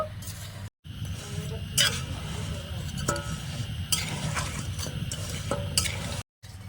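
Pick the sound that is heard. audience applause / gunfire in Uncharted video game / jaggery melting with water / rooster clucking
jaggery melting with water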